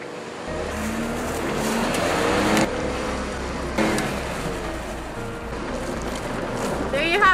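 A Ford pickup with the 2.7 L EcoBoost engine, set in sport mode, accelerates hard in a race against a horse. Its engine note climbs in pitch, with brief gear-shift dips, loud and near throughout.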